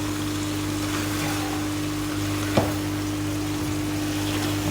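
Mutton kachnar gosht with beaten yogurt frying in a pan gives off a steady, even sizzle with a low hum beneath it, broken by one brief sharp tick about halfway through.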